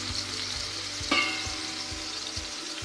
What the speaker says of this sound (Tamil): எண்ணெய் நல்லா சூடானதுக்கப்புறமா மீனை வச்சிடலாம்.